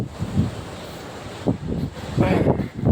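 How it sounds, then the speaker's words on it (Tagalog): Strong wind buffets and roars in gusts across the microphone, with no voices, by the sea at Infanta. "Ang lakas ng hangin din eh."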